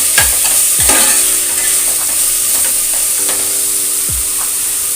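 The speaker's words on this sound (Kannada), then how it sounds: "ಈಗ ಮಿಕ್ಸ್ ಮಾಡ್ಕೋಬೇಕು ಇದು ಟೊಮೆಟೊ ಎಲ್ಲ ಸಾಫ್ಟಾಗಿ ಬಾಯ್ಲ್" Tomato bath, a South Indian breakfast dish, stirred in a pan over steady frying sizzle and steam hiss, with a spoon scraping the pan in several distinct strokes; close and continuous, with no talking.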